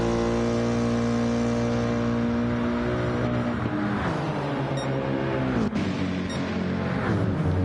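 A Toyota Supra Gr-3 race car in a racing video game pulls away under hard acceleration, a loud, steady engine whine climbing in pitch through gear changes, close and continuous with no talk over it.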